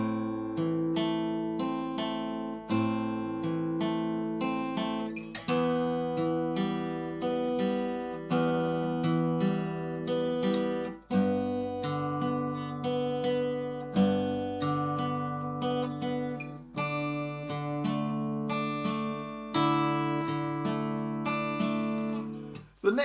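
A guitar plays the first line of the bridge of a song, with open strings ringing in a steady, repeated picking pattern, clear and close, with no voices.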